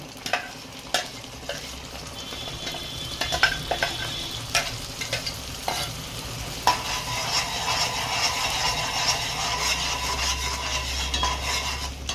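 Spice paste for a spinach chicken curry fries in hot oil, giving a steady close sizzle broken by sharp spatula scrapes and clinks against the pan, growing louder and denser toward the end.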